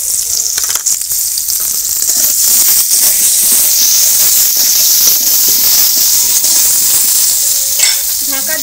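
Potatoes frying in hot oil with salt and a little turmeric, a steady close sizzle and hiss throughout with faint stirring clinks near the end.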